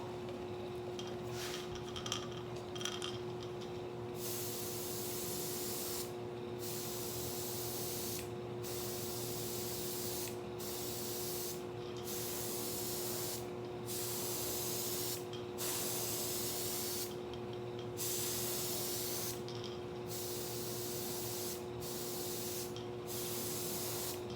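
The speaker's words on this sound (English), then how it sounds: "I want to start building coats on top of that, and it'll get darker as I go" Candy paint being spray-painted on in building coats, a steady, close hiss in repeated bursts separated by short pauses, with a constant low mechanical hum underneath and no talking.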